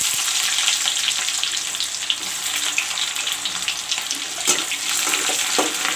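Onions dropped into hot oil with browned garlic in a pan for egg curry, giving a continuous hissing sizzle that stays steady and close with a few brief clinks, no voices.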